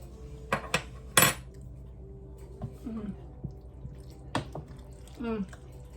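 A metal fork clinks against a dish while a cooked dish is tasted: a few sharp, bright taps and scrapes scattered over quiet kitchen background, close and fairly soft.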